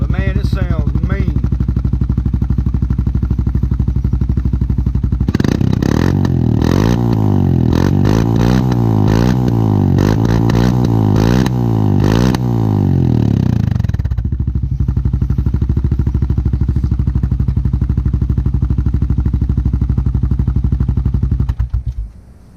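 Loud, deep idle from a 2022 Honda Rancher ATV with a Big Gun Evo exhaust, broken by several throttle blips in the middle. It settles back to a steady rumble before cutting off at the end.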